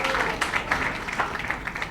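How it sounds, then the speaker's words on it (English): An audience at the book launch for author Zuni Chopra claps steadily, a dense wash of applause at moderate volume held for a couple of seconds. "Please, again, the usual applause for our talented Zuni Chopra over here."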